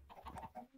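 Minecraft chicken clucking in version 1.18, a few short faint clucks in quick succession, heard alone at low level.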